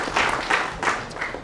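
Audience applause at a Gayung Bersambut event at Poltek LLASDP Palembang, a brief burst of clapping swelling in a few waves, with little else over it.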